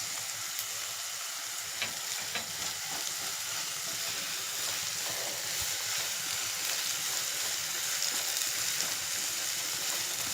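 Ginger garlic paste sizzling steadily in a hot pan for a drumstick curry, a continuous close frying hiss with faint stirring scrapes throughout.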